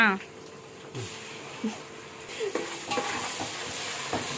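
Masala frying in a pan while being stirred, a soft sizzle with scattered scrapes and clinks of a spoon, under people talking nearby.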